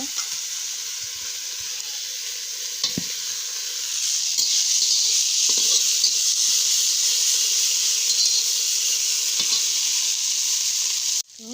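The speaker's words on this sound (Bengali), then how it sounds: "শাকটা ভেজে নেব" Leafy greens fry in a hot pan with a loud, continuous sizzle that grows stronger partway through. Occasional clicks come from stirring, and no one speaks.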